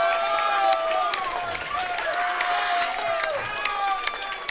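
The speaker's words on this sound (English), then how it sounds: "Folks, let's give Jordan and Crider a big round of applause." Crowd applause and cheering fill a boxing arena at the Impacto 12 event, a dense, steady wash of clapping with ringing tonal cries and whistles gliding over it, fairly loud throughout.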